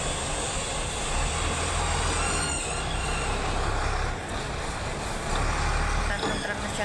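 A truck arrives with a continuous low diesel rumble that swells and dips over several seconds, steady and fairly close, with no speech.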